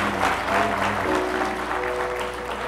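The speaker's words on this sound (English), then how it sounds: "Give yourself a hand clap in the Lord" A church congregation claps together in a steady, fairly loud burst of applause that fills the room and stays even from start to finish.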